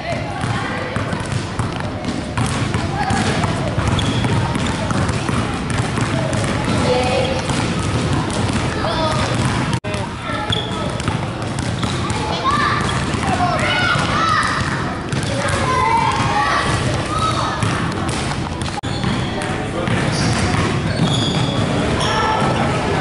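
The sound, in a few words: basketball dribbling during layup drills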